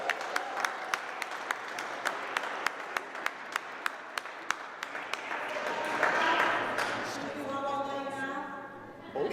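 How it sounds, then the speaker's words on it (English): Crowd applause breaks out at a Frederick Douglass 200th birthday celebration right after a group sings happy birthday, with sharp individual claps near at first, then swelling into a denser, louder wash with voices cheering toward the end. "All right, clap it up."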